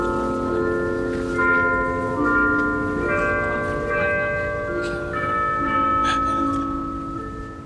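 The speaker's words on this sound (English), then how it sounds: "Have you ever had like a church bell underneath your interviews?" A church in Nashville rings its bells with a layered, overlapping peal of several tones, steady and fairly loud at a middle distance, continuing throughout with light street background beneath.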